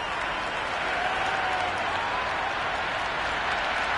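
Continuous crowd noise from a stadium in the video game Cricket 26, a dense roar mixed with clapping, steady and fairly loud.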